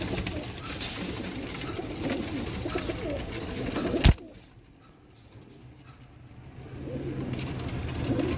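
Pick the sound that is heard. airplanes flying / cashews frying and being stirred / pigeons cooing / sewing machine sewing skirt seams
pigeons cooing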